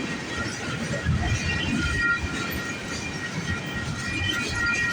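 A CP freight train rolls past at sunrise, its wagons rumbling steadily with faint wheel squeal and clatter, a continuous close pass with no voices.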